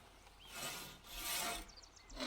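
A villager sawing wood in the video game Foundation, three rhythmic rasping back-and-forth strokes, close and fairly loud, with faint bird chirps in the background.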